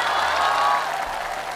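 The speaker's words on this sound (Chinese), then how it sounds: "又听到了大伙的掌声啊" Audience applause at a Chinese crosstalk comedy show, a steady wash of clapping that holds for a moment and then gradually fades, moderately loud.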